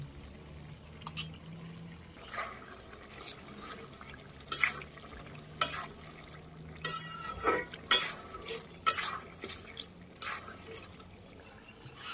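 Small fish added to a gourd curry in a Bangladeshi village kitchen, with soft bubbling and simmering under repeated irregular clanks and scrapes of stirring, close by and without talk.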